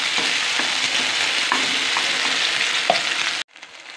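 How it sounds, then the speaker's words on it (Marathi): Chutney mixture hisses into hot crackling tempering in a pan, a loud continuous sizzle with faint stirring scrapes, then cutting off abruptly near the end, with no voices. "आता ह्याच्यामध्ये जे आपलं मिश्रण आहे चटणीचं ते टाकून घ्यावं."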